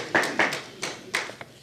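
A few scattered hand claps from an audience at a City of Tampa history celebration, sparse and uneven, short bursts with gaps between them.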